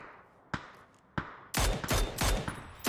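Gunfire in a video game shooter: a few isolated sharp shots, then a rapid burst of loud, close cracks in quick succession, with no talk over them.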